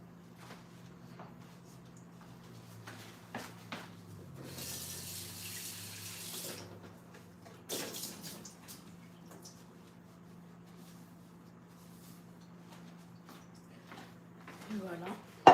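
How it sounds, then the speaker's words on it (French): A bowl is rinsed under a running kitchen tap, with short bursts of gushing, splashing water amid quieter stretches of faint handling noise. "je vais rincer mon bol"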